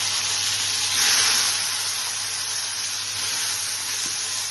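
Boiled soybeans fry in hot oil with a loud, steady sizzle and hiss that swells briefly near the start and then holds on, close by, with no one speaking.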